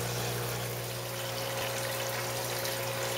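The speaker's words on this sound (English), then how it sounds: "The pump discharge will swirl the fish tank a little bit" Steady water churn from an aquaponics pump discharge swirling a fish tank in a barrel system, a constant close wash with a low mechanical hum underneath and no talking.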